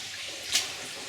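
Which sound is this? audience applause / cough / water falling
water falling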